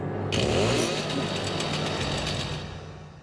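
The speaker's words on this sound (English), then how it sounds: "I like the chainsaw" A chainsaw engine revs loudly and steadily for a few seconds with a buzzing, rattling drone, then tapers off, in the video game Evil Dead: Regeneration.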